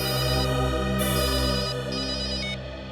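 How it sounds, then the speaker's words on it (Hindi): A telephone rings in a crime drama's investigation office, giving a steady electronic tone with stacked harmonics that holds for about three seconds at a fairly even, moderately loud level, with no one speaking. "आद्या, पता चल गया फोन कौन कर रहा था?"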